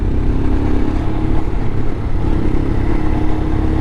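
A Royal Enfield Himalayan motorcycle engine drones loudly and continuously while riding on a mountain road, with steady engine noise and wind rumble close to the microphone.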